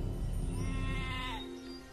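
A female goat bleats, a single loud, close, wavering cry lasting over a second before tailing off.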